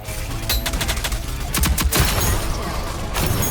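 Explosions and rapid gunfire from a video game battle, a dense fusillade of cracking shots and booming blasts, loud and close, with several sharp bursts clustered in the middle and a steady rumble underneath.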